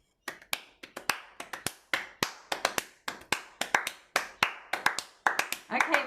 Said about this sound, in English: now I'm going to clap it instead. No pitch.